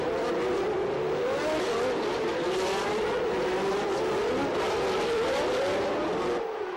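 A 1989 Formula One car screams through the tight Loews hairpin at Monaco, its high engine note holding steady and rising slightly across the clip, loud and continuous with no pauses.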